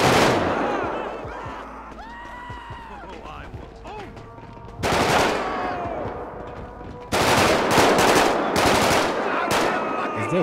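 Bursts of gunfire in GTA 5 during a security guard shootout, with a couple of loud broadband volleys, the longest near the end, separated by quieter stretches of engine hum and game ambience, and voices talking over parts.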